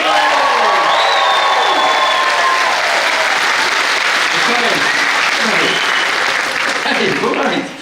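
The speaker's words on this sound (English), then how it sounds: "you can whoop if you want, and applause" A graduation ceremony audience breaks into loud, sustained applause mixed with whoops and cheering shouts, a dense crowd roar of clapping that stays strong for nearly eight seconds before cutting off.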